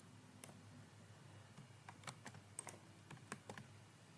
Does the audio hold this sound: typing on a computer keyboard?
yes